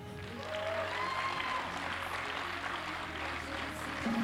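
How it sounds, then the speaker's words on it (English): Audience hands clapping steadily in a lively crowd at a bodybuilding and figure competition show, dense applause sustained throughout at moderate loudness. "Let's hear you guys clap."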